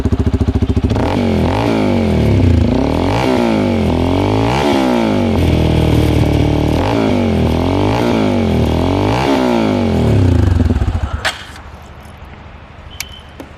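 A motorcycle exhaust fitted with a dB killer rumbles close to the microphone, rising and falling with repeated revs before cutting off near the end with a click.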